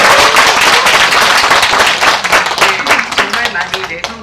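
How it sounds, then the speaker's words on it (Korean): A crowd at a community results-sharing event claps, a loud burst of many hands that thins into scattered individual claps as a voice starts talking over the end. "다시 한번 박수 부탁드립니다"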